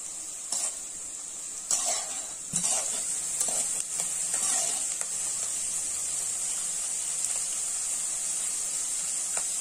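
Adamant creeper sizzles steadily as it is stirred and fried in a pan, with a constant bright hiss broken by occasional scraping knocks of the spoon, close and without speech.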